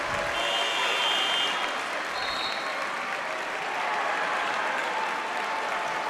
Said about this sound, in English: He's getting the crowd up